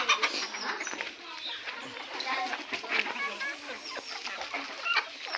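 Free-range desi chickens wandering on a poultry farm, clucking and chattering in a busy overlapping flock close by, while a person talks over them.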